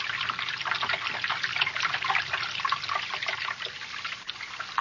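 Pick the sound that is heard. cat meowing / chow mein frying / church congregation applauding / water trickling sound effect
water trickling sound effect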